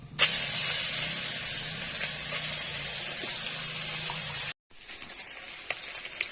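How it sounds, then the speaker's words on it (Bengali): Prawns fry in hot oil in a wok with a loud, steady sizzling hiss that cuts out briefly near the end, then resumes more softly. "মাছ ভাজা হয়ে গেছে, মাছ তুলে নেবো"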